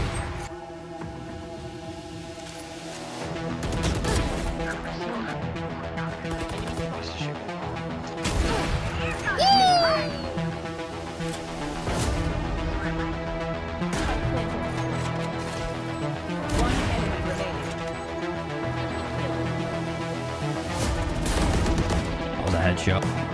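Sniper rifle shots in Valorant, loud sharp cracks spaced several seconds apart over a continuous musical backing track, with brief announcer-style voice lines.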